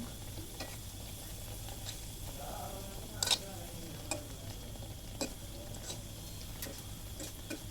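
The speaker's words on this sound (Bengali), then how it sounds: "একে একে পিঠাগুলো দিচ্ছি আর ভেজে তুলে নিচ্ছি একটা কাঁটা চামচ দিয়ে মাঝে মাঝে নেড়ে দিচ্ছি" Poa pitha fry in hot oil with a soft, steady bubbling sizzle, punctuated by occasional light taps and clicks of a fork turning them in the pan.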